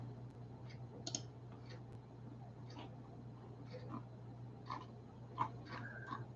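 Light clicking of keys as someone types a link on a computer keyboard during a live herbal book club stream, a few soft scattered taps over a low steady hum, quiet, no speech.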